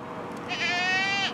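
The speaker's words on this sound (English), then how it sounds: "Look at this, is a friggin' goat farm." A single short, wavering, high-pitched goat bleat sounds close by at a goat farm in northern Utah, over faint outdoor background noise.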